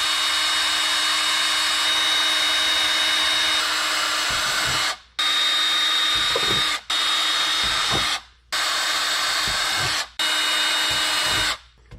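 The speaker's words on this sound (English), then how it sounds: "keep it still where I can drill these holes" A power drill whines steadily at high speed, drilling holes in a mounting plate on a Hobie PA 14 kayak, stopping briefly four times in short gaps before starting up again, close and loud.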